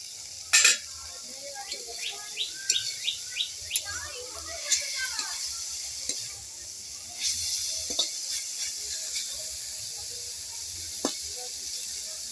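Drumstick leaves frying in a pan are stirred with a series of short scraping clicks over a faint steady sizzle, followed by a quieter stretch with only soft sizzling.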